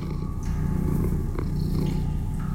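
Winslow the cat from Minecraft Story Mode purrs in a low, continuous rumble that runs the whole time, with faint game sounds layered above it.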